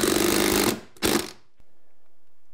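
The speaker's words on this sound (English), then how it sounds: "Now I'm gonna take some 3-inch screws and attach this bottom plate or sill plate" Three-inch screws driven by a power driver into a wooden bottom sill plate during repair of a water-damaged, rotted wall, heard as two loud, close buzzing bursts, the first longer, followed by a quiet tail.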